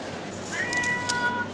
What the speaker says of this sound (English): The cat's not happy.